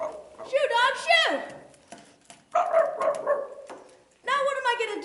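A dog barks and yelps in three separate loud bursts with pauses between them, close by and in a small room.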